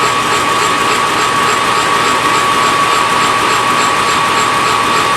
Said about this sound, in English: I'm going to cut the ends of these smaller pieces